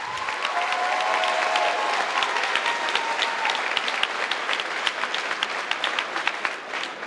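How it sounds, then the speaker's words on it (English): A middle school 8th grade promotion audience gives a sustained round of applause, loud and steady at first, then thinning to scattered claps toward the end. "how about a round of applause to Miss Church, who worked on that fabulous video show"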